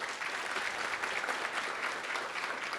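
Steady, fairly faint audience applause after a speaker introduction at a college flex day event, an even wash of many hands clapping throughout with no voices.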